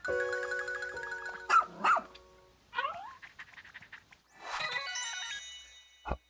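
A cartoonish dog from the Pikmin 4 video game gives a couple of short barks amid game chimes and jingles, with a brief final yip, and no talking.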